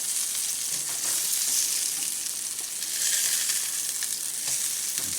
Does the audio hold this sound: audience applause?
no